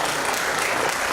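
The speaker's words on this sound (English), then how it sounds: "request you a round of applause for them at this stage" Dense, steady applause fills an awards ceremony hall from a large audience, an even wash of many hands clapping at moderate loudness through the whole moment.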